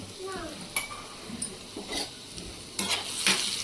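Carrot and beans in a pan with chili powder and turmeric are stirred with a spoon, giving repeated scraping strokes over a light sizzle that grows busier toward the end.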